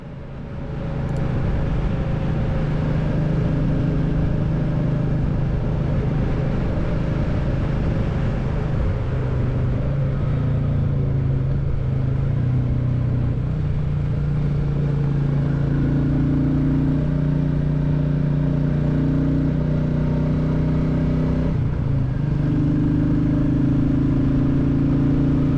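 A Royal Enfield Classic 350 motorcycle cruising along country roads at sensible speeds, its steady single-cylinder engine note droning loud and close throughout with wind noise, small shifts in pitch as the throttle changes and no talk.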